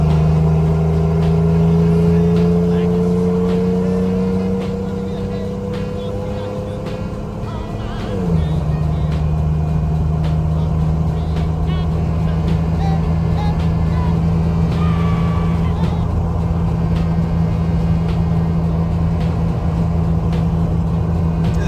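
A vehicle fitted with Spicer 5.13 gears accelerates up a curving highway on-ramp, its engine droning loud and steady with a clear gear change partway through, then settling into a sustained cruising hum.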